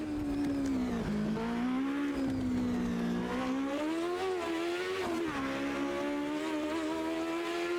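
A race car in a racing game revs hard and continuously, its loud engine note rising and falling through gear changes and corners, with a faint tire squeal and no talking.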